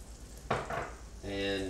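Eggs for an omelet with brie, gorgonzola and bacon frying in a pan, a steady close sizzle with a brief louder burst of activity partway through and a smooth hiss toward the end.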